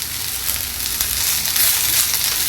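Curry leaves sautéing in a pan for karuveppilai chutney, a steady broadband sizzle and fry hiss held at an even level throughout, close and alone with no talking.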